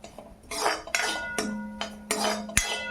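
A spoon scrapes and clinks in a kadai as garlic and ginger are stirred for momo filling. Several separate metallic strokes fall at a moderate pace, close and clear.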